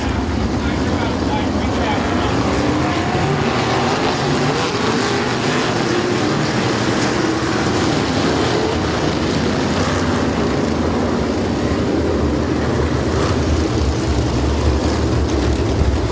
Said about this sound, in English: the stars and cars of the must-see racing engine pro sprint cars